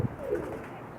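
A single low pigeon coo, soft and fairly close, from a pair of fancy flying pigeons in a loft, brief and alone without talk.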